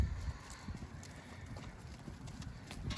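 St Croix sheep leaving a sacrifice paddock, their hooves clopping in a busy, irregular patter on the ground nearby, with steady wind noise over the microphone.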